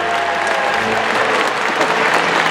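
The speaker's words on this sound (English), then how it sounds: "Let's have a huge round of applause for our audience volunteers." Loud, dense applause from a large stadium crowd at a SeaWorld San Antonio orca show, cheering the soaked audience volunteers, steady and sustained throughout.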